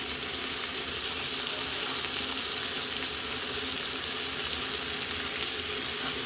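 Spices fry in hot fat in a pan for a chickpea dal, making a steady, even sizzle that stays loud and unbroken throughout with no talking.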